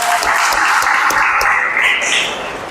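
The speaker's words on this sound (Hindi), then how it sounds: "उनके लिए भी तालियां।" Crowd applause at a Muay Thai national championship medal ceremony, a steady dense clapping that holds loud throughout and eases slightly at the end.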